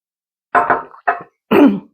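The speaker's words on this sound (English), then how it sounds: "Clear my throat." Someone clears their throat close by in three short, rough bursts, the last one the strongest, with silence around them.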